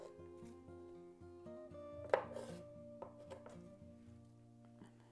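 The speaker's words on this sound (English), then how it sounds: "I just like to cut the ends off of these" A knife chops through garlic cloves on a cutting board with a few close, crisp cuts, and one sharper knock stands out among quieter taps, all low and faint under a steady background hum.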